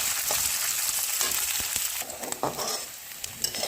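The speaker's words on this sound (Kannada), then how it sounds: "ಈಗ ಇದು ಸ್ವಲ್ಪ ಕಲರ್ ಚೇಂಜ್ ಆಗೋ ತನಕ ಹುರ್ಕೊಳ್ಳೋಣ." Chana dal, green chillies, curry leaves and onion fry in a pan for sabudana upma, giving a steady crackling sizzle with a few spatula scrapes, close and alone throughout.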